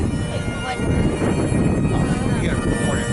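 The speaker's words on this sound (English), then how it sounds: "A prop plane and 2 jets." At an air show, a P-51 Mustang propeller plane flies in formation with F-22 Raptor and F-35 Lightning II jets. Their engines make a steady, distant rumbling drone mixed with wind noise and a public address announcer.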